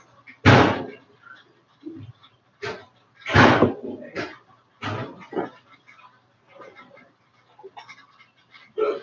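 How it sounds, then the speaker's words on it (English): A door is shut in a home, giving several loud thumps and clunks spread over a few seconds, with quieter knocks and rattles between them. "Oh, he's closing the door."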